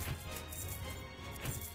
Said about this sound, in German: Zack, Gold Explosion.